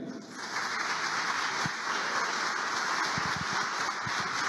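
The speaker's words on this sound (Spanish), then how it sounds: "El aplauso para él." Sustained applause for journalist Alberto Niquén Guerra as he receives an award from Peru's President Martín Vizcarra and the Environment Minister at an official ceremony: a dense, steady wash of clapping that swells in after a brief lull and holds throughout.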